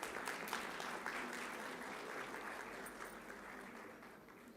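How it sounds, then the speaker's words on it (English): Audience applause at a university convocation ceremony, a steady dense patter of many hands clapping at moderate distance, sustained throughout and slowly fading slightly toward the end. "Please clap."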